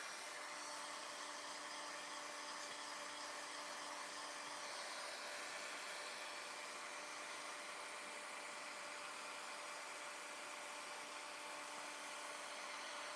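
Heat gun blowing hot air over embossing powder at a craft table, a steady, even whooshing hum with a faint tonal whine that holds unbroken throughout, fairly quiet and close.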